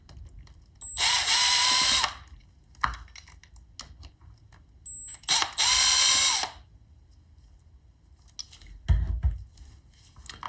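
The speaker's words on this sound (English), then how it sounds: "So we'll remove those two screws." Two screws are driven out of the outlet latch valve plate on a BeaconMedaes Series B medical gas outlet with a power driver, heard as two loud whirring bursts of about a second each, with small handling clicks and knocks between them.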